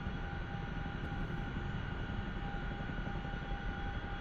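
Steady, loud engine and rotor drone of a helicopter in the DCS flight simulator game, a constant dense roar with no voices over it.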